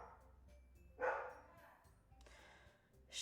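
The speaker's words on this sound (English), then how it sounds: "she has like 6 dogs, and so they're just kind of barking a bark right now" Several dogs bark indoors in a house, a few scattered barks and yips at a moderate distance, brief and uneven, with quiet room noise between them.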